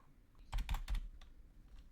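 A few quick keystrokes tapped on a computer keyboard, a short cluster of close, soft clicks followed by two fainter taps, in a quiet room.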